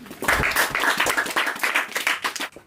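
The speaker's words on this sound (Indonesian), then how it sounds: "Tepuk tangan dulu." Brief burst of audience applause, a dense patter of many hands clapping together for under three seconds before trailing off at the end.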